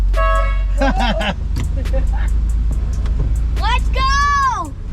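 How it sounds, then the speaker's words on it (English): A car horn honks in short toots amid loud engine rumble and people talking, with a longer blaring honk near the end. "Can I honk?"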